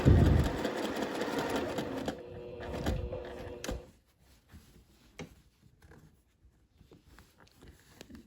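A sewing machine stitches a rolled hem with ric rac using a 1/8 inch foot, running in loud close bursts for about four seconds, then stopping, leaving faint handling clicks and rustles.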